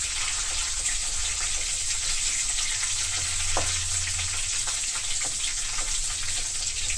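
Eggplant, gongura and dried shrimp curry fry in a pan, producing a constant dense sizzling hiss with occasional faint clinks, close and steady throughout with no voices.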